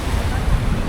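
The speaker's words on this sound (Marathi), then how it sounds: "इथं बसलो समोरून पण लाटा येतात." Sea waves wash onto shoreline rocks near a jetty, making a loud, rough, continuous rush mixed with wind buffeting the microphone.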